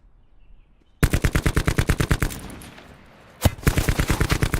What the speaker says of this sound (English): but I see those gunshots